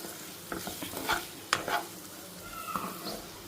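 Gram flour sizzles and fries in a pan for a green chilli curry, a steady close crackle broken by scraping stir strokes, with no voices.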